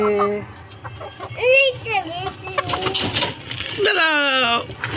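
Chickens cluck and call repeatedly at close range in a morning coop during egg collection, with a bright rising squawk near the end; a person speaks intermittently over the birds.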